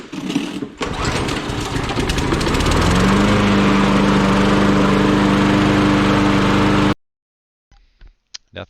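A Lawn-Boy 10400 lawn mower engine starts and settles into a loud, steady, buzzing run close by, then cuts off abruptly, leaving near silence with a few faint knocks.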